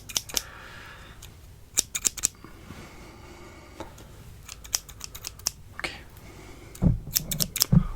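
Close, crisp scissor snips cutting hair during a barber-style haircut roleplay, arriving in short irregular bursts of clicks with quiet pauses between them and a slightly louder cluster near the end.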